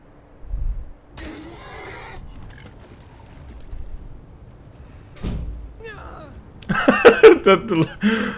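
In the video game Skyrim, a horse neighs loudly near the end after scattered quiet thumps and brief rustling sounds, with a shrill, wavering whinny standing out from the sparse background.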